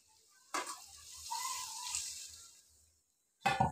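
Small river fish frying in spiced oil with coriander leaves hiss and sizzle as liquid is poured into the pan, a sharp burst followed by a steady sizzle that fades, then a second loud burst of spitting oil.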